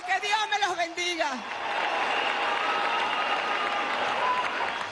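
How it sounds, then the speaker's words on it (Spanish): A crowd at a Venezuelan political party rally in Aragua breaks into sustained applause and cheering, a voice over a loudspeaker speaking at first before the clapping fills the rest of the clip steadily. "Un aplauso para ustedes,"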